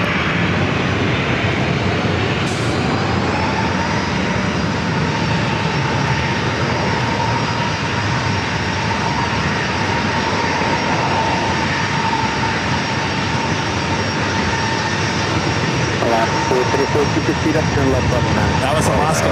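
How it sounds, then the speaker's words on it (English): Alaska Airlines jet on landing approach at San Diego airport, flight 474 arriving from Atlanta, a loud steady engine roar with a sustained whine that holds throughout, close by and continuous, with people talking over it. "That was Alaska flight coming in from Atlanta, flight 474"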